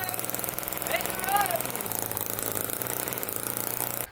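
A homemade two-stroke internal combustion engine built from an old refrigeration compressor runs steadily with a continuous rough buzzing drone, a brief rising rev near the start, then a constant close, loud chatter.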